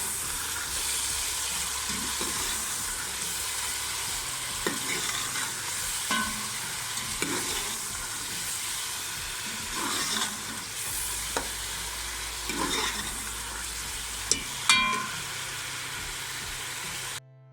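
Steady sizzling of garam masala and spices frying in a pan, with intermittent scraping and clinks of a spoon stirring.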